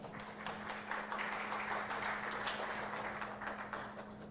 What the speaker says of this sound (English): if the Spirit moves you to clap, clap.